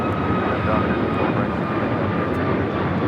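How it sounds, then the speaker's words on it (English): A Southwest Airlines Boeing 737 MAX 8 takes off from LAX, its jet engines giving a loud, steady roar throughout. "This is Southwest Airlines 4847 taking off to Houston Hobby on a MAX 8."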